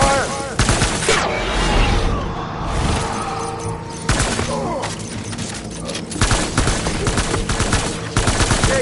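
Sustained gunfire in the video game Death Stranding, dense automatic bursts and sharp shots rattling almost without pause, loud and close, with brief booms mixed in.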